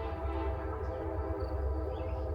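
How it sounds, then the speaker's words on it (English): A CSX freight train passing along the tracks, a steady, loud low rumble with sustained tonal hum throughout, continuous and near with no break. "we got yet another train coming our way."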